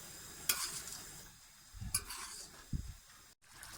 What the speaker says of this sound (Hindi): अब फ्लेम को हाई करना है और हाई फ्लेम पे हमने इसको बहुत अच्छी तरीके से भून लेना है।